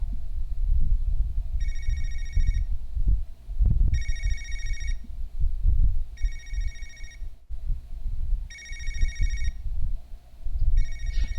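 A telephone rings in the video game Yakuza Kiwami, a repeated electronic ring in four or five regular bursts over a low rumbling game background.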